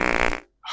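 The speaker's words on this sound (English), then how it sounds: "look at all these fart sounds" A single fart sound effect played from a soundboard, loud and close, with a rasping buzz lasting under half a second, then a brief silence before another sound begins at the very end.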